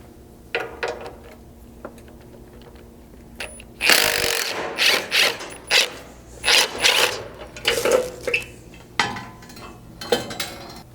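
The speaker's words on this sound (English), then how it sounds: "For that, you just need a 12mm socket, and then it will be helpful to have a swivel at some of these locations." Metallic clinks and ratcheting from a 12mm socket wrench with swivel removing lower cage bolts on a Lexus LX 570 during a slider install, heard as irregular bursts of close tool noise over a quiet background.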